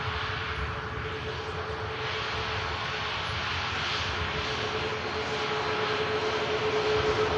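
A Saudia airliner taxiing at Manchester Airport, its steady engine roar loud and continuous throughout with a faint constant whine, no talking.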